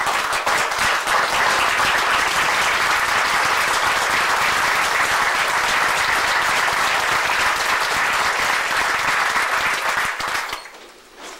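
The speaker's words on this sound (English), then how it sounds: "give themselves a round of applause for being here" Loud, sustained applause from an audience honouring police officers at a city council meeting. The clapping holds dense and even for about ten seconds, then drops away quickly.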